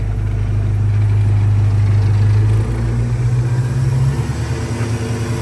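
A carbureted engine in a Chevrolet runs steady and loud nearby, a low droning idle that shifts pitch slightly as the revs change partway through, with no talking over it.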